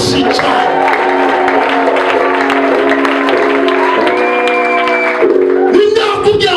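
A church congregation claps loudly and continuously at a service, a dense wash of applause with cheers and shouts riding over sustained music tones, swelling near the end.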